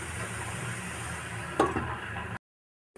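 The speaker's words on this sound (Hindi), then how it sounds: "हम अपने पपीते को अच्छे से फ्राई करेंगे।" Raw papaya fries in a pan for a sweet halwa, giving a soft, steady sizzle with a brief stir or scrape before the sound cuts to silence near the end.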